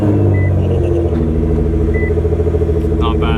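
Nissan GT-R R35 with an aftermarket tune starting up and settling into a steady, loud, deep engine rumble, close by, with a brief high electronic beep over it.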